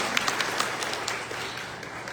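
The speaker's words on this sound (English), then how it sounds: "Round of applause, thank you so much." Audience at an Oakland immigration rally applauds a council member, a steady wash of many hands clapping at a distance, sustained and even for a couple of seconds with a few sharper claps standing out.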